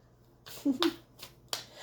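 Tarot cards being shuffled by hand: a few soft, crisp riffling flicks and snaps at close range, spaced irregularly over a quiet background, with faint vocal sounds mixed in.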